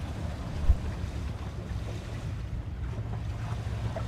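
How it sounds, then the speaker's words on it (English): Sailboat cruising about 4 knots under genoa alone on the Salish Sea; a steady low rush of water and waves along the hull with wind buffeting the microphone, one brief thump near the start, no voices. "We are currently cruising at along 4 knots with just our Genoa"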